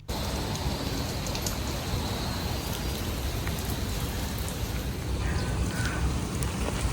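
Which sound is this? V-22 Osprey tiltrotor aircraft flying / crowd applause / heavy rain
heavy rain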